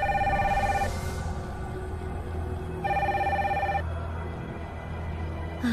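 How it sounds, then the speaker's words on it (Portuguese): A telephone bell rings in bursts, two loud rings separated by a pause, close and clear over a low background hum, with no talk. "Anda, Vera, atende o telefone."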